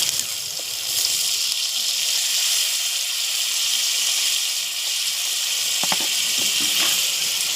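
Water goes into a pan of simmering river fish curry, producing a loud, continuous hissing rush that lasts throughout, with a few faint clicks near the end and no talking.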